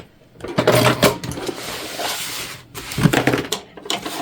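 A sewing machine back stitches a tote bag in short, uneven bursts of whirring. The bursts are mixed with clicks and clatter from handling the fabric and the machine, and there are brief pauses in between.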